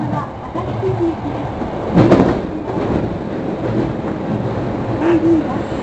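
An Osaka Municipal Subway train runs between Ōgimachi and Tenjimbashisuji 6-chome, heard from the front car as a continuous rumbling roll with a few brief squeals and a faint voice in the background.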